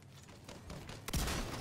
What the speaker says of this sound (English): I gotta get a good shot off with the TAC 50 here